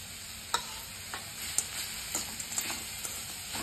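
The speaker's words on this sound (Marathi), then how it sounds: "आणि ह्याच्यातच मी आता गुळ पण मिक्स करून घेणार आहे" Jaggery being stirred into grated raw mango in a bowl, giving soft, faint scraping and clicking stirs at an uneven rhythm over a quiet hiss, no talking.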